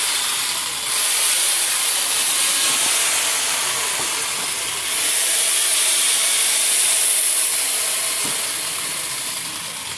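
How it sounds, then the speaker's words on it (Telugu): Steady, loud hissing whine of a chainsaw or cutting tool on tree wood, continuous for the whole stretch with a short dip near the start and again midway, no talk over it. "అందుకే ఈ చెట్టుని అయితే కట్ చేస్తున్నారు."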